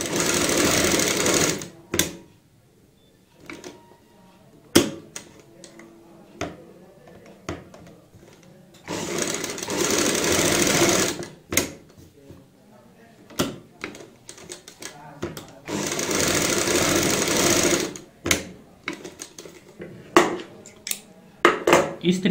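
Short bursts of sewing machine stitching on a kurti neck design come in three longer runs with brief clicks and taps between them, close and fairly loud, while a voice speaks in the gaps.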